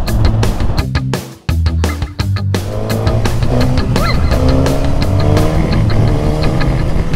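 An inline-four naked motorcycle, formerly set up as a sports tourer, revs hard and accelerates: loud, close engine howl climbing in pitch, a brief dip near the start, then sustained high-revving acceleration through shifts.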